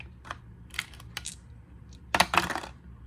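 Heroclix dice tossed onto a tabletop during a Batman team-up game, several short sharp clattering rolls with a louder tumbling burst near the end, close and clear with no talking.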